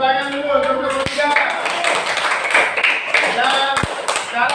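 Classroom clapping for a student group in a teaching practice lesson, a brisk burst of hand claps with a few sharp taps standing out, heard close and moderately loud.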